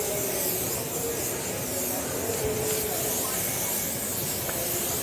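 A spray-tan gun mists California Tan solution onto a man's body in a steady, continuous airy hiss that stays even and close throughout.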